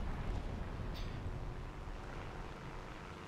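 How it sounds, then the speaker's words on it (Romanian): A video game airplane drones low and steady as it approaches, a continuous engine rumble with no talk over it. "vine un avion și vrea să captureze"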